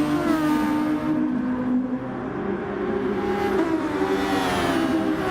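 Race cars in a sim racing game roar continuously through the field, engines droning and revving steadily and loudly throughout with no pause.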